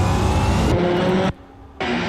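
DPI prototype race cars in Assetto Corsa at the Long Beach Grand Prix street circuit, a loud engine roar that cuts off abruptly, drops to a lower rumble, then roars back in.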